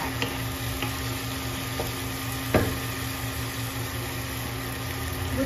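Chicken sautéing in a pan gives a steady low sizzle and hiss, with an occasional soft clink of a utensil stirring, close and without talk.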